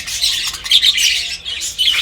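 Shrill, rapid squawks from a small English budgerigar chatter continuously up close in a nursery cage, loud and harsh with brief pauses.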